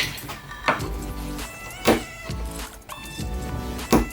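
Sharp wooden pops and cracks come every second or two amid scraping and creaking as a chisel pries wood loose from a door hinge mortise along utility-knife score lines, close by.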